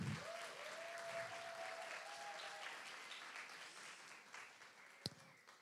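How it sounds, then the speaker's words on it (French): An audience at an eloquence competition final applauds its two finalists, a sustained, even patter of many hands clapping together with one sharp knock near the end. "je vais demander d'applaudir nos 2 finalistes, Iman et Maxime."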